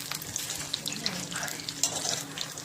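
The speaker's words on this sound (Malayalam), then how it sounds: "തിളച്ച എണ്ണയിലേക്ക് നമുക്ക് കോളിഫ്ലവർ ഇട്ട് ഫ്രൈ ചെയ്തെടുക്കാം" Cauliflower florets shallow-fry in hot vegetable oil for gobi manchurian, a bright crackling sizzle with scattered sharp pops and spits, close and steady, with no talking.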